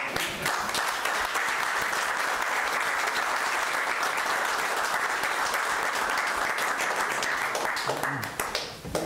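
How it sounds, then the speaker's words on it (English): An audience at a Burlington city council meeting gives a round of applause, with steady, continuous clapping from a modest crowd that lasts about nine seconds before tapering off at the end. "I think they need a round of applause."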